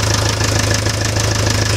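A Fordson Major tractor engine idles at close range, a loud, steady low diesel thrum with an even rapid knocking pulse throughout, heard alone without talk.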